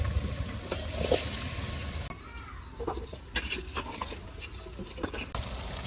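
Cauliflower sautés in a pan while being stirred, a sizzle that fades after the first couple of seconds, followed by scattered scraping and clinking stir strokes at close range.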